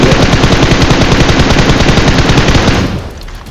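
Sustained rapid automatic gunfire in the mobile battle royale BGMI, a loud dense stream of shots for about three seconds before cutting off abruptly.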